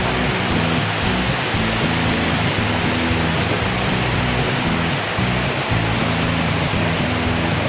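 Loud, steady rushing of falling water roars continuously at the base of Wang Kan Lueang waterfall in Lopburi, Thailand, a dense unbroken wash of noise with a low rumble underneath.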